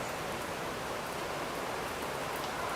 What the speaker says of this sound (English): it's a little rainy outside right now